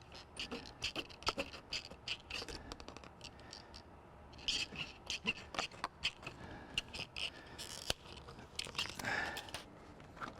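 Solid vinyl is cut for a mullion cover, giving quiet, irregular snips and scrapes close by, scattered in short bursts with faint handling noise between them.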